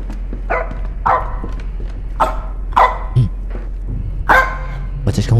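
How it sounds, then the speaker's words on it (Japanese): A dog in a video game barks repeatedly in sharp, evenly spaced single barks, about five or six over several seconds, fairly close and clear against a low background hum. "また犬吠えてる"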